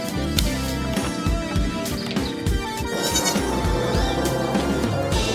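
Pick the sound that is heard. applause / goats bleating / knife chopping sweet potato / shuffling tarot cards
goats bleating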